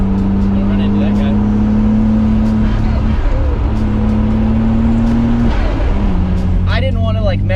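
A Nissan R32 drives through corners, its engine a steady close drone with shifting pitch and a brief gear change, as people talk over it throughout.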